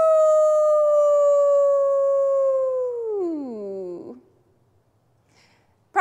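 A single wolf howl rises loud and clear as one long, sustained, drawn-out note, then slides downward and fades out, leaving near silence before a faint noise at the very end.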